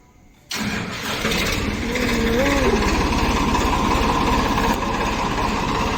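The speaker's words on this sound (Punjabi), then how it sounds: "ਹੁਣ ਟਰੈਕਟਰ ਵੀ ਸਟਾਰਟ ਕਰ ਲਿਆ ਆ" A tractor engine cranks and catches, then settles into a steady, loud, throbbing idle close by, with a faint whine rising and falling partway through.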